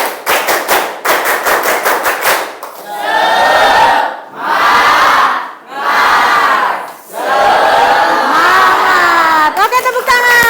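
Indonesian ninth-grade students in a classroom performing a rhythmic clapping chant: quick bursts of claps alternating with loud unison shouted words from the whole class, repeated several times.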